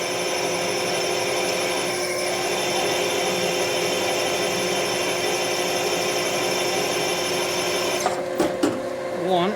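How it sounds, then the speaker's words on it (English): A 7/16 drill bit bores into the cylinder head of a 1957 Harley panhead during a head conversion, a steady high-pitched whine running continuously and close, with a few brief clattering knocks near the end. "And that's roughly a 7/16 drill bit, as I recall."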